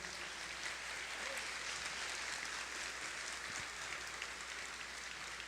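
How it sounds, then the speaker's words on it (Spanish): Church congregation gives a sustained round of applause, a soft, even patter of many hands heard at a distance with no speech over it. "¿Le podemos dar un aplauso al Señor?"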